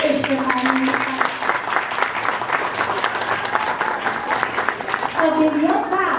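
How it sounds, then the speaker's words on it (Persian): An audience at a cultural festival gives a child performer sustained, even applause that fills the hall, while an announcer's voice speaks over it at the start and end. "لطفاً تشویقش بفرمایید."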